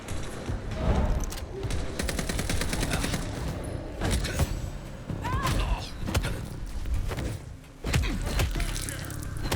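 Gunfire in the game Vampire: The Masquerade - Bloodlines 2, repeated loud sharp shots and bursts spread across the clip, with mechanical clatter and creaks between them and some voice underneath.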